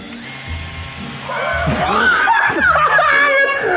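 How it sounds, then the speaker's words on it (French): A whiny, high-pitched motorized buzz like a toy drill spins up partway through, while people laugh and shout excitedly over it. "Mais c'est une perceuse."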